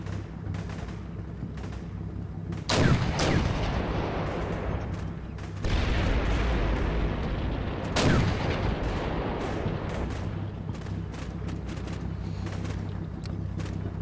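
Tank cannons and guns firing in a Black Sea training match of a tank combat game with BM Oplot tanks: several heavy booming shots with long rumbling decays over a constant low engine drone, no talk.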